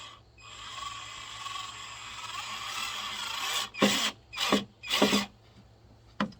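A power driver whirs steadily as screws are driven in to mount solar lights, then gives several short ratcheting bursts in quick succession near the end.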